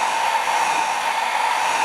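A hair dryer running on a low setting, drying a thin layer of paint on a car body panel during deep-scratch repair; a steady, even whir that holds close and constant throughout, with no talk.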